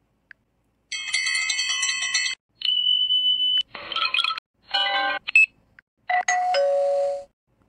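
A string of bell sound effects from a mobile video editor's library plays in quick succession: bright electronic rings, a sustained tone, buzzy chimes and short dings, each separated by brief silence.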